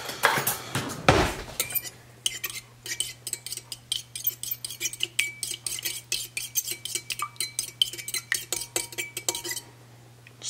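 Two eggs being beaten in a bowl: a fork or utensil clinks rapidly and steadily against the dish for several seconds, fairly close and clear, with a steady low hum underneath and no talking.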